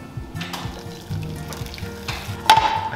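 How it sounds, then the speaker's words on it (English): Noodles sizzle and fry in a hot pan after water is added. A steady, close crackling hiss runs throughout, with a sharper burst of sizzle near the end. "I let it sizzle for about like a minute"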